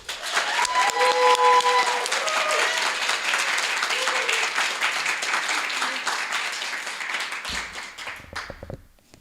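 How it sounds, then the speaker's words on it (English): Sustained audience applause for a storyteller at a live storytelling event, dense clapping from a crowd for several seconds before fading out near the end. "please give a round of applause"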